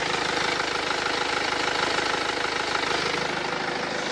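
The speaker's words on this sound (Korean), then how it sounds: "엔진 소음 먼저 들려드리면은" A BMW 2.0-litre diesel SUV engine idles with a steady, even rumble and fine mechanical clatter, heard close and continuous with no voices.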